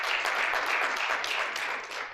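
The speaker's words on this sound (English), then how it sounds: "Let's just clap for him." An audience claps for a regional police ICT officer at a project commissioning ceremony in Uganda's Ankole sub-region: dense, even applause throughout that fades slightly at the end.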